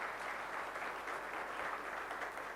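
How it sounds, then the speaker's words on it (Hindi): Applause fills a hall during a direct selling seminar, a steady, even wash of many hands clapping at a distance, continuous throughout with no speech over it. "और ये तालियां होनी चाहिए सभी के लिए।"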